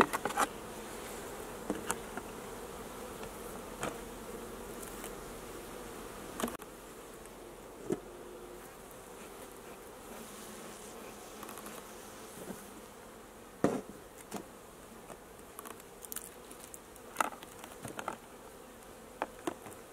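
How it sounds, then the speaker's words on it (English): Honeybees buzz steadily around an opened hive as it is put back together, a continuous close drone of many insects with occasional sharp knocks and taps from the hive parts. "encourage the bees to go down into the hive as I put it back together"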